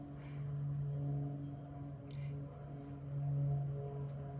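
Steady crickets chirping outside a window in a low, constant drone, fairly faint and distant, with a soft hum underneath and no talking.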